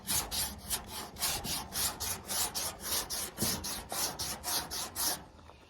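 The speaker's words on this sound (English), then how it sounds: "And that's how you sand inside a convex hole like that." Hand sanding inside a convex hole in an F600 pickup truck bed, with a steady back-and-forth rasping stroke repeating about three times a second, close and fairly loud, with no voices.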